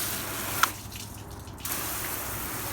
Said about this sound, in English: the way the water kind of shoots off the surface